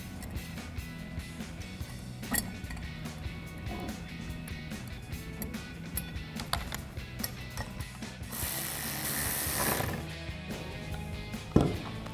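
A ratchet with a 7mm socket tightens a nut on a Rugged Ridge Venator front bumper during fitting to a Jeep Gladiator JT. It gives a steady run of fine mechanical clicks, close and alone in a quiet garage.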